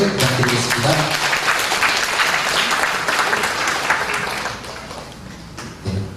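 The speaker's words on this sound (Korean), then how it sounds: "다시 한번 큰 박수 부탁드리겠습니다" A congregation at a church worship rally claps in a sustained, dense burst of applause that slowly thins out. A brief sound rises near the end.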